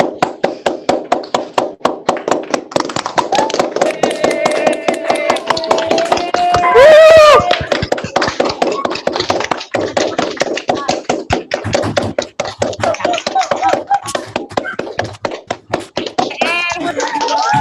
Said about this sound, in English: let's give everybody one last big round of applause